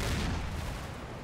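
A Panther tank's cannon fires in a video game, a heavy blast with a dense, rumbling low boom that fills the whole moment and slowly decays.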